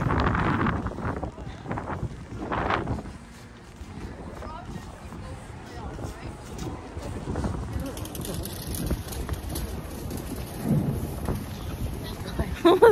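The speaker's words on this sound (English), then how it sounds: "Was that thunder?" A low, rumbling roar of thunder rolls through a windy, noisy outdoor scene at the New Westminster Quayside, with people talking nearby and gusts buffeting the microphone.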